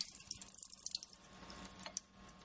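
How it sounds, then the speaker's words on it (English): Water from a tap splashes and trickles over sprouting seeds being rinsed in a sink, a steady close running stream with small drips and splashes. "going to rinse them off"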